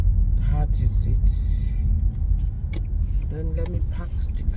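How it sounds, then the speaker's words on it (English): A car rumbles along at low speed before parking, its engine and road noise steady and close, with a few brief voice sounds over the top. "Then let me park the car here."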